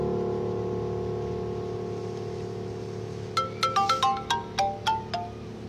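A mobile phone ringtone plays in a TV drama scene, entering after about three seconds of a steady low hum as a quick run of bright, repeated electronic chime notes, fairly loud and alone.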